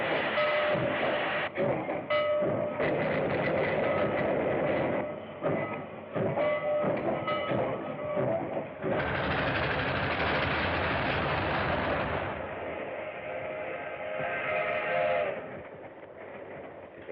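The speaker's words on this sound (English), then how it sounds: "it was a late train pulling out of the P&M station for Los Angeles" A late train pulls out of a station bound for Los Angeles, a steady loud rumble and hiss of rolling cars with faint rhythmic clatter, continuous and without talk.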